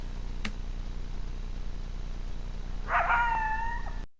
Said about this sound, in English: Most likely he's one of the coyotes howling that the mountain lion is going to check out.